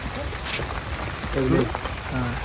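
Heavy rain falls outdoors around a cooking spot where fish curry is being made, a steady dense hiss running throughout while voices talk faintly underneath.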